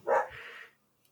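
A single short dog bark, fairly close and loud, trailing off quickly into silence, with no talking over it.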